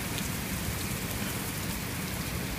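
Steady, dense rain falls in New York City, a close, even hiss of drops hitting the ground and surfaces with no letup and no voices.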